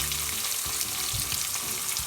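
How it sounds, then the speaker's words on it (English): Onions and curry leaves fry and sizzle in a pan over a medium-low flame while being stirred, giving a steady close hiss with soft scraping bursts throughout, no talking. "I'm going to roast these onions for 2 to 3 minutes first on medium slow flame until they just turn a little bit mushy"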